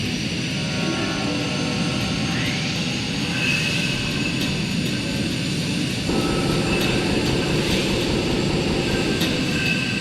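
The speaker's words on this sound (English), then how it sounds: "I just have my finger down on the afterburner right now, praying that I don't get shot." Jet fighter afterburner roar in the video game Ace Combat 3, a loud steady engine rush that holds for the whole stretch and swells slightly partway through, with no talking over it.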